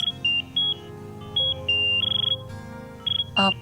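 A phone rings with a repeating electronic melody of bright tones in short bursts, fairly close, with a low hum underneath and no one speaking.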